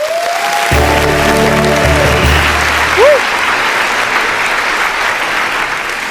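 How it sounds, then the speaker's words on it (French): A studio audience at a televised show claps steadily and loudly throughout, a dense, even wash of applause, with a brief sustained tonal sound near the start and a short rising whistle-like sound partway through. "Applaudissez encore pour vous"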